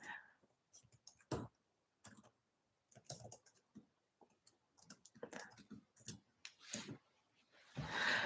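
Keyboard clicks come in irregular short bursts as a welcome message is typed, close and quiet, with brief pauses between runs of keystrokes and no talking.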